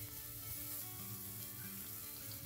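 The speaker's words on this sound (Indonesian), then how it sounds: "Kalau udah layu, sekarang kita masukkan sayur buncisnya. Ini kita tumis sampai layu." Green beans stir-fried in a pan, a steady, dense sizzle and frying hiss throughout, close and fairly constant with faint stirring, no voices.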